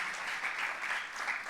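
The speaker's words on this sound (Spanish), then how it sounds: "Vamos a darle un aplauso al Señor." A short burst of steady applause from a church congregation, many hands clapping together at moderate volume.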